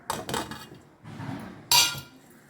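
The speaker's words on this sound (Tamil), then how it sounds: "இப்போ நல்லா போட்டு காலிஃப்ளவரை நல்லா கலந்துக்கணும்" Cauliflower florets being tossed into a masala batter in a bowl, giving a few close, wet clattering mixing strokes with a sharp clink against the bowl near the end.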